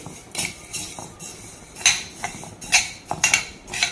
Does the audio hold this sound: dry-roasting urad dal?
yes